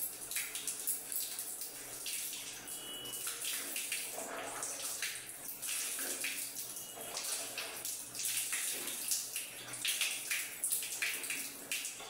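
Running tap water splashing steadily while someone washes their face at a sink, a continuous close, broadband wash of water with irregular splashes from the hands and no talking.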